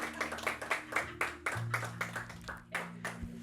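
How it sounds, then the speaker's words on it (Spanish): Scattered clapping from a church congregation, a run of uneven hand claps at moderate volume over a low steady hum, with a few voices murmuring underneath. "Dale un aplauso a Juan para la servilleta."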